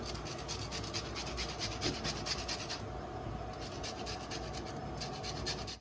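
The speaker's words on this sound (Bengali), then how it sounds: "গন্ধরাজ লেবুর এই ওপরটা এরকম করে আমি ঘষে ঘষে ঘষে ঘষে দেব।" Continuous scraping rasp of gondhoraj lemon rind being rubbed on a grater for paneer, steady back-and-forth strokes running throughout at close range, with no voices.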